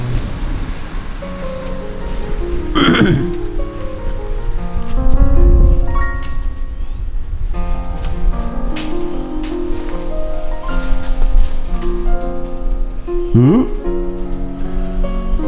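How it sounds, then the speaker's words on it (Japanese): Steady rain falling outdoors, a continuous broadband hiss with occasional drips and knocks, joined by music-like tones and brief sweeping sounds, heard without speech. "雨だな。"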